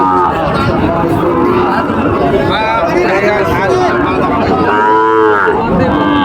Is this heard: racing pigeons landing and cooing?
no